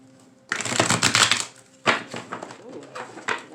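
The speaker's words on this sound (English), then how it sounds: "I'm going to shuffle them again." Tarot cards being shuffled by hand in bursts of dense, crisp riffling and flapping, one long run followed by a few shorter ones, close and fairly loud with no talking.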